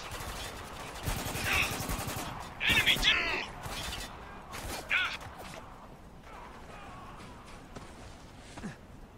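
Machine-gun bursts from a SAW in Spec Ops: The Line, several loud rattling volleys in the first half that fade into quieter scattered shots, with a voice talking over part of the action.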